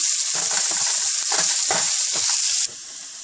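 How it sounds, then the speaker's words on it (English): Onion frying in a pan until brown, a loud bright sizzle with several scraping stirs, the hiss dropping suddenly near the end as the heat or pan shifts. "We have to cook the onion until it's like brown."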